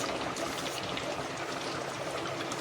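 Water poured into a pan of frying chicken masala with ginger-garlic paste and spices: a steady, close trickling stream with a faint sizzle, and no voices.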